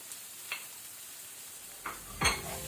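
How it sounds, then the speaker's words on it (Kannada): A spoon stirs turmeric and salt into frying masala in a pan, making a few soft scrapes and taps over a faint, quiet sizzle. No one speaks. "ಪುನೊಮ್ಮೆ ಅದನ್ನು ಒಳ್ಳೆ ರೀತಿ ಮಿಕ್ಸ್ ಮಾಡ್ಕೊಳ್ಳಿ"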